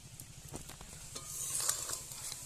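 A soybean mixture finished with a spoonful of ghee is stirred in a hot pan, soft scraping strokes over a faint steady sizzle, quiet and close with no talk.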